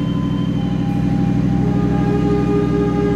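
A steady, continuous rumble of the Kertajaya economy passenger train rolling along the rails below 120 km/h, heard from inside with an even low drone and faint tonal whine.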